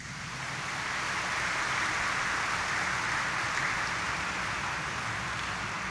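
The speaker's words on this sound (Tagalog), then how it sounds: "Kaya pwede bang pumalakpak ng malakas?" A church congregation at a Quiapo Church mass applauds loudly, a continuous, even roar of many hands that swells in and holds steady like heavy rain, with no voices standing out.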